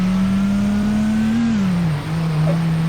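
A turbocharged car engine in a driving video game gives a steady, loud drone holding a constant pitch, dipping slightly then settling, like a car cruising with a continuous hum, no talking.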